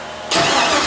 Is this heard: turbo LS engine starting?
yes